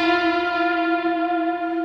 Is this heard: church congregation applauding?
no